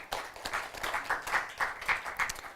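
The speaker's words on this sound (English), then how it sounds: "Let's give Miss Camilla Schippa another round of applause." Audience claps after a speech on interfaith partnerships, a fairly quiet, slightly uneven patter of clapping from a modest crowd that rises and falls over a few seconds.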